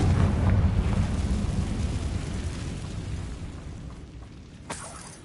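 Bombarda and Confringo explosion spells from Hogwarts Legacy, a deep rumbling blast that fades slowly over several seconds, with a small sharp pop near the end.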